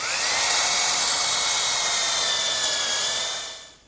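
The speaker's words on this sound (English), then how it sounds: "I'm ready to drill the holes using a 1/2 inch brad point bit, and I'll go through both pieces at once" A power drill fitted with a 1/2 inch brad point bit bores through two stacked pieces of wood at once, a steady high whine running for a few seconds before winding down, close and loud with no talk.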